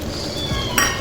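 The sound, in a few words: pouring tamarind water into dry fish thokku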